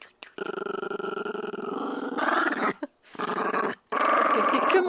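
A dog growls up close in long, rumbling bursts that swell and break off, with short silent gaps between the last few growls.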